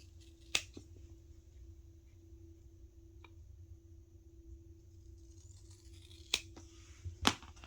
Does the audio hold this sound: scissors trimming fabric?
yes